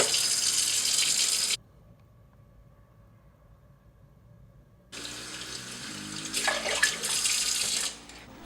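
Tap water runs from a kitchen faucet while rice is washed in a pot, a loud hissing stream that stops for a few seconds, then gushes again with splashing as the grains are rinsed.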